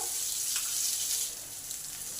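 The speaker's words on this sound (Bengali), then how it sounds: "তেলেতে একটু ভেজে নেবো" Steady oily sizzle of potatoes frying in oil in a pan, continuous and close, with no voices.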